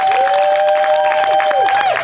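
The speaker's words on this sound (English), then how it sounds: "Go ahead and give them a round of applause." Outdoor rally crowd in Eugene clapping for student and faculty justice groups, the scattered applause partly buried under a sustained tonal sound and crowd noise, fairly loud and close.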